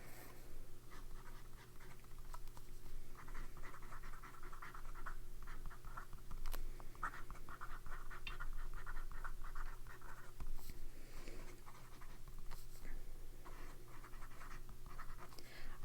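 A fountain pen nib scratches steadily across paper while writing with Callifolio Andrinople ink, a faint, continuous dry rasp heard up close with no talking.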